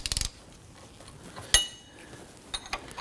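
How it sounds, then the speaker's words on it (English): A ratchet works the 18mm pinch bolt nut on the front steering knuckle of a Nissan Murano, giving a short burst of rapid clicks, then a single sharp metallic knock and a few lighter clicks, close up with no talking. "We're going to put our ratchet on the nut side"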